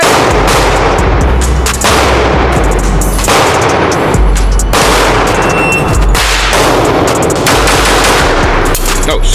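Handgun shots during a shooting drill, loud, close bursts of rapid gunfire in several clusters separated by short gaps, overwhelming everything else in the scene.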